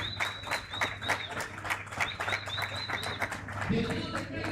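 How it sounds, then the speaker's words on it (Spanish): Applause from a crowd at a padel tournament final in Rio Gallegos, steady clapping with an announcer's amplified voice talking over it. "Fuerte aplauso por favor."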